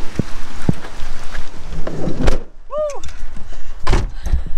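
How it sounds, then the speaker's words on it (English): Rain starting to fall outdoors in the Netherlands, a broad steady patter with a few sharp drops, low rumbling and a brief bird-like chirp in the middle. "then the rain comes."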